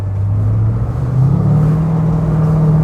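A car engine on a frozen lake drones loud and close, its pitch climbing gradually while the tires slide, with a steady rumble and no voices.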